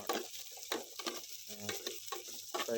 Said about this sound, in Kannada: ಈರುಳ್ಳಿ ಹಾಕಿ ಸ್ವಲ್ಪ ಫ್ರೈ ಮಾಡಬೇಕಾಯ್ತಾ, ಚೆನ್ನಾಗಿ ಫ್ರೈ